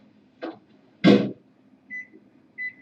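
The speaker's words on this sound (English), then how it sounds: "And then they hear that beeping. He's putting something in the microwave" Two short thumps, then a microwave oven gives two clear electronic beeps a moment apart, fairly close.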